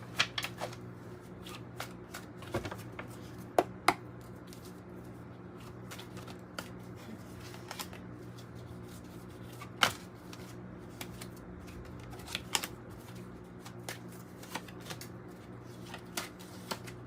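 Oracle cards for a tarot reading shuffled quietly and steadily at close range, a soft continuous riffling with occasional sharper taps and snaps, over a low hum with no talking.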